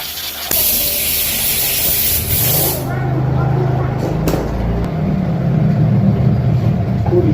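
Compressed air blowing debris out of a 2-stroke chopper build area, a loud hissing blast that cuts off, then a lower rumbling hiss and shuffling, close up.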